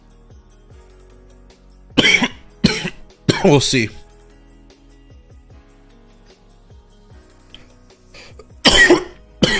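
Several harsh coughs in clusters, close and loud, separated by quiet stretches with a brief spoken phrase.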